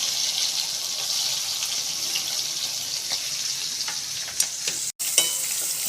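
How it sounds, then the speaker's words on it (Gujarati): Onion frying in hot oil with mustard seeds, cumin and hing, a loud, steady close sizzle with occasional stirring clicks and a brief dropout near the end. "એ સરસ પકડી જાય એટલે તેની અંદર એક ડુંગળી ઉમેરવાની."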